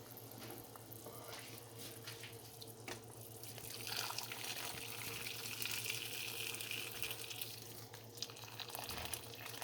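Tap water running into a cooking pot on the stove for an organic herbal tea of ginger, turmeric and pomegranate skin, a steady, fairly faint splashing stream under a low kitchen hum, growing fuller midway.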